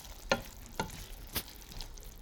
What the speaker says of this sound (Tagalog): Kaya kunting halo.